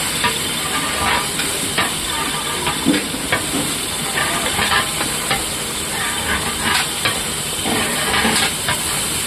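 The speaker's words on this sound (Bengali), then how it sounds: "এবার ইঁচড়টা আমরা কষিয়ে নেব" Raw jackfruit sautéing with spices in a large pot for a big batch, a steady loud sizzling hiss with scattered crackles and stirring scrapes throughout, without any talk.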